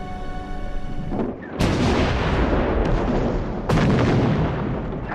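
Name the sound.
heavy artillery fire in a war documentary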